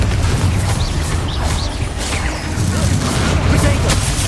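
Confringo fire spell exploding in Hogwarts Legacy, a dense rumbling boom with crackling blasts that fills the clip loudly, while a voice talks over it.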